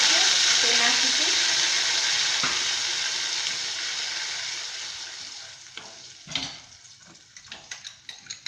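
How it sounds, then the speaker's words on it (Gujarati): Onion gravy hitting hot oil with cloves and cinnamon while making dum aloo, a loud steady sizzle that slowly fades, followed by scattered stirring clicks and scrapes, with a voice speaking over it. "હવે આપણે તેમાં ડુંગળીની ગ્રેવી કરીશું તે નાખીશું"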